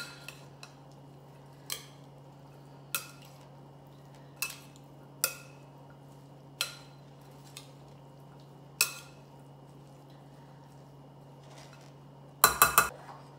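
Utensil clinking against a bowl while mixing black bean and corn salad, a series of about ten sharp, spaced taps ending in a quick cluster of clatters, close and otherwise quiet.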